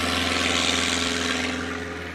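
A STOL aircraft called Warhorse at a Rocky Mountain STOL competition in Pinedale, Wyoming makes a steady, loud propeller and engine drone with a strong low hum, sustained throughout and slowly easing near the end, with no talk.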